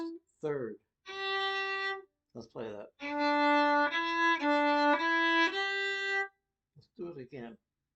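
Fiddle playing the opening phrase of the old-time tune Mairi's Wedding, a few clear, sustained bowed notes heard up close, with brief bits of a speaking voice before and after.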